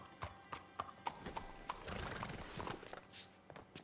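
Horse hooves clip-clop in a stable in Red Dead Online, with a string of distinct, fairly close hoof strikes, a stretch of busier scuffing in the middle, and a horse whinny toward the end.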